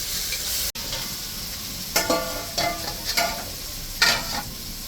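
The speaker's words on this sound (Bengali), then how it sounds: "এখন চিকেনটা দিয়ে দিলাম, কষানো হয়ে গেছে মশলাগুলি" Marinated chicken frying in a pan of spiced Bengali masala for chicken kosha, with steady sizzling and several distinct bursts of stirring scrapes, close and clear with no talking.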